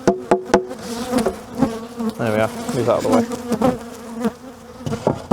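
Honeybees buzz near and loud during a spring hive inspection after winter, their wavering drone mixing with sharp knocks and taps on the wooden hive boxes while someone speaks briefly.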